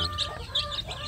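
Young free-range village chicks kept in a box give quick, close clucks and high peeps in a busy, irregular cluster.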